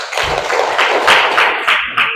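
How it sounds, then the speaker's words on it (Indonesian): A classroom group gives brief, close applause for a student group about to present, a short burst of clapping lasting about two seconds. "Tepuk tangan untuk kelompok 1"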